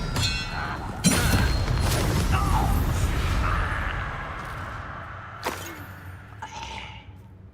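A Bombarda blasting spell in Hogwarts Legacy goes off as a loud thump followed by a rolling explosive rumble and crumbling debris, with sharp spell cracks later in the fight.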